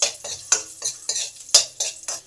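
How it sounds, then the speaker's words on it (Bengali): Crushed cardamom and cloves fry in a pan with cumin, chilli and cinnamon for fried rice, a spoon stirring and scraping in about eight quick, close, rhythmic strokes with a faint sizzle underneath, no voices. "এলাচ আর লবঙ্গটাকেও একটু ভালো করে ভেজে নেব।"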